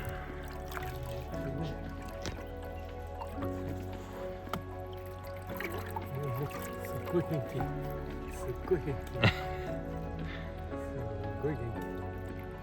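Water is stirred and poured into a koi fry tank, faint sloshing and dripping with a few brief splashes, mostly under ongoing conversation.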